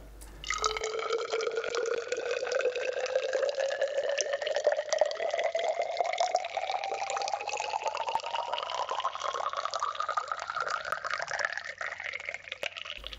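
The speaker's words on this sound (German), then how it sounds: "lasst das Wasser deutlich hörbar in euer Glas plätschern" Water from a tap pours into a glass as it slowly fills, a steady close splashing whose tone rises in pitch as the glass fills up, heard alone.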